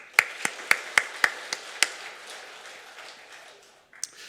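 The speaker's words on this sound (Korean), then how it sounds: "우리 하나님께 박수" A church congregation claps in a short burst of sharp, evenly spaced claps that fade into scattered applause, with a single late clap after a brief pause.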